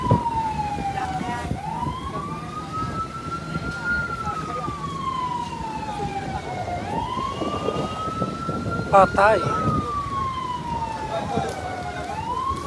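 Wailing fire truck sirens sweep up and down repeatedly at a large fire in Barangay Guinhawa, Tuy, Batangas, loud and steady amid crowd noise and shouting voices, with a brief sharp burst near the end.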